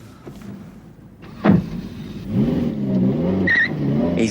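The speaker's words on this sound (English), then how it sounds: "let's both get in our enormous cars and have a cumbersome car chase" Large cars in an action movie start up and pull away as a car chase begins: a door thud, then engines rev and rise into a steady, loud growl with a brief squeal near the end.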